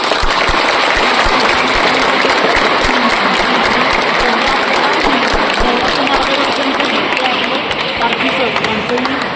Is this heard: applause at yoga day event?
yes